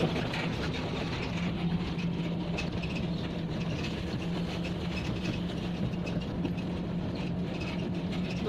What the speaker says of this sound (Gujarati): રેલગાડી નીકળતી છે વચમાં